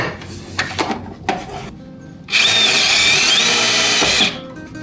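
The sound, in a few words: drilling a hole in metal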